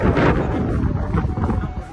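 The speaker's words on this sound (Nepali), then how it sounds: "एकदमै हावा चाहिँ लागेको छ" Strong wind at Umi Hotaru, Chiba, Japan buffets the microphone in a continuous low roar and rumble, loud and steady throughout with no clear voices.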